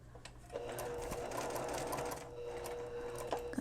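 A sewing machine stay-stitches the side panel seam of a dress. A close, steady mechanical whir runs for about three seconds, with brief quiet moments at the start and finish.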